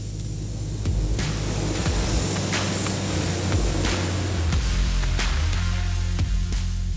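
Spray gun painting the inside of car doors black on a 1970 GTX, a steady loud hiss of spraying that starts softer and holds on with brief pauses, no talking.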